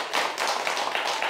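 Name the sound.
audience clapping at lecture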